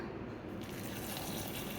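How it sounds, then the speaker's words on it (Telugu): Hot water poured into a glass bowl of soya chunks makes a steady, close gushing splash that runs continuously, brightening slightly after the first half second. "బాగా హాట్ వాటర్ని పోసేసి"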